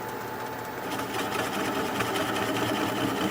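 A wood lathe spins a red cedar bowl while a swept-back bowl gouge cuts it, giving a steady, loud whirring hum with a continuous scraping hiss that swells slightly partway through, without any voices.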